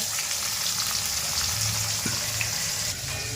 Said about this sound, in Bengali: এখানে মাছের জন্য আলু ভাজা হচ্ছে